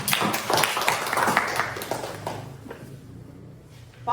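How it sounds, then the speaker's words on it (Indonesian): A small class of students claps for a classmate's poster in a school classroom. A short burst of uneven hand claps fills the first couple of seconds and then trails off into quiet room tone. "kita beri tepuk tangan"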